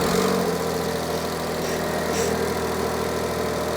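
A Smart 451 car idles on a newly fitted genuine exhaust, giving a steady, close, even engine drone that holds unchanged for a few seconds with no talking.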